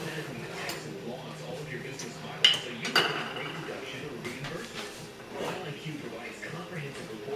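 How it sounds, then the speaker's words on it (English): A metal kettle used as a grease pot is moved aside on a kitchen stovetop, giving a couple of clanks and scrapes of pots and utensils among soft background kitchen noise. "Just move my kettle that I use for a grease pot or a fry batty out of my way."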